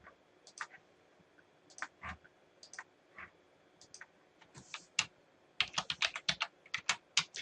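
Keystrokes clatter on a computer keyboard at close range, scattered sparse clicks at first and then a quicker, louder burst of typing near the end, with no talking.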